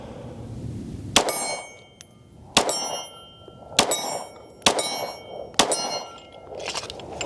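Bullets from a Palmetto State Armory Dagger Full-Size-S pistol strike a steel target, five sharp metallic clangs at roughly one-second intervals, each ringing briefly before fading, with no talking.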